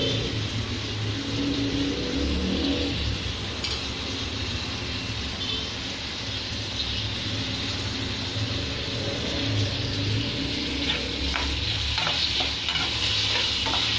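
Chopped cluster beans (broad beans) frying in a pan, a loud, steady sizzle running throughout with occasional stirring scrapes and faint background hum.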